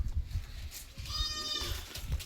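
Young dairy goats bleat close by at a livestock sale, a drawn-out wavering call standing out over low rumbling noise and scattered thumps.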